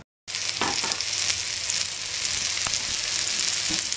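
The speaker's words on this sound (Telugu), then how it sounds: "ముక్కలని కార్న్ఫ్లోర్లో కాస్త అద్దుకొని పాన్ పైన వేసుకోవాలి" Cornflour-coated fish pieces shallow fry in a pan, starting after a brief silence with a loud, continuous sizzle and a few light taps of utensils. No one speaks.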